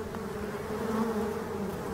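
Black bees buzz in a forest setting, a soft continuous drone with no pauses, heard alone without voices.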